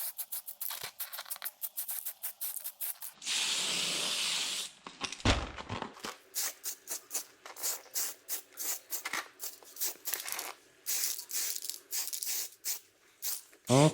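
A spray can applies a second coat of paint to a Tamiya Toyota TS050 Hybrid Le Mans model body in a brief steady hiss, set among clicks, rustling and handling noises.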